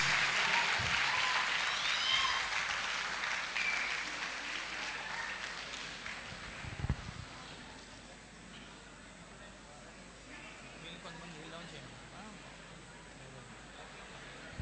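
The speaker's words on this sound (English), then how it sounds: "Give them a big round of applause to all the winners." Audience applause for award winners at a career event in an auditorium, clapping that is strongest at the start and fades over several seconds into room noise and faint voices.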